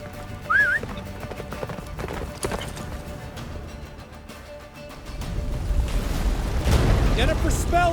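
Hooves of Roach, a horse in The Witcher 3, clip-clop at a steady gallop, joined by a brief whinny and rising wind and rumble in a stormy game scene; a voice is heard over the hoofbeats.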